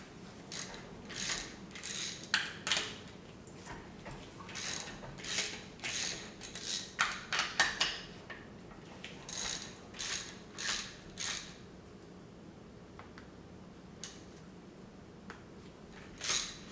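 A ratchet wrench loosens large nuts on an engine case, giving repeated bursts of quick metallic clicking separated by short pauses, fairly close but quiet, with a few isolated clicks toward the end.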